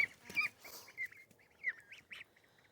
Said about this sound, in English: our little duck here, who keeps getting stepped on by every friend that she has